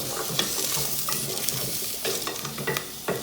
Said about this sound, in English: And we're just going to let this saute for just a few minutes